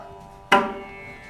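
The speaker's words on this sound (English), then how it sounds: "So there are many different strokes on the Mrdangam. Some of them are tonic, so they produce a pitch, such as these." A single ringing, pitched stroke on a mridangam drum, close and clear, with a sharp attack and a sustained tonal decay, no talking.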